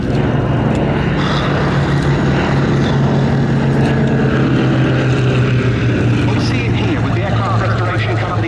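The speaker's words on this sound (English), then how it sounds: "This Lockheed 12A leading this formation was the first production prototype example of" A Lockheed 12A propeller aircraft leads a formation at the Duxford summer air show, a loud sustained engine and prop drone filling the whole stretch under a continuous outdoor roar.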